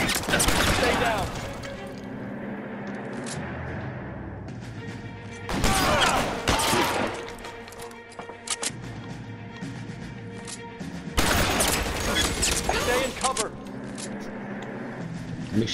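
Gunfire in the video game L.A. Noire, several loud bursts of shots and crashes in a shootout separated by quieter gaps, with voices talking throughout.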